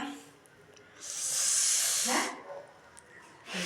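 Cumin seeds dropped into hot oil for a tempering for radish curry, a loud, bright hiss that swells for about a second and then fades, with quieter crackle before and after.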